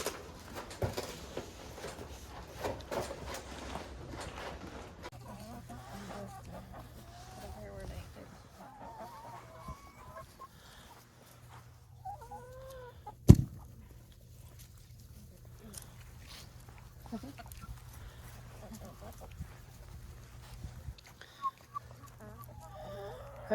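Quiet scattered clucking from a few chickens perched on a pumpkin nearby, soft and intermittent against a low hum, with a sharp knock midway.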